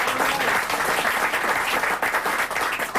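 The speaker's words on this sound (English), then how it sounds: "So we've got applause for our men and accountants." A live concert crowd at a show applauds loudly and continuously, dense clapping from many hands throughout.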